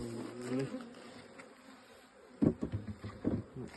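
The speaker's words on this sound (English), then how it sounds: "so we'll just shake these bees off" Honeybees buzz around a queenless hive being reduced, a soft continuous hum with louder close passes and bursts toward the end.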